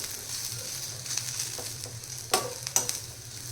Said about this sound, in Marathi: खोबरं टाकल्यानंतर हे पण छान याच्यामध्ये फ्राय करून घ्यायचं आहे आपल्याला